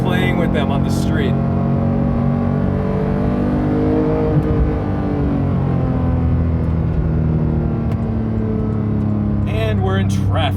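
Manual Porsche 991.2 GT3 engine held at revs in second gear, a steady close rumble with rising and falling harmonic lines through the cabin while driving on a street, with brief voices at the start and end.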